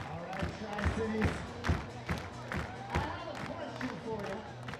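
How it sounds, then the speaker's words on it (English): A large, loud minor-league baseball crowd in Pasco claps and stomps in rhythm, making repeated thumping beats with voices mixed in. "One of the largest crowds of the season. Loud and engaged here in Pasco."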